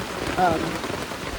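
Rain patters steadily on a trail shelter during a thunderstorm on the Appalachian Trail at the Wallkill National Wildlife Refuge, a soft continuous wash heard close by under a brief voice.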